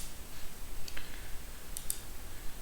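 A couple of faint, sharp mouse clicks land close together while software is set up for a one-year RFM customer analysis; they sit quiet and near over a low background hiss, with no talking.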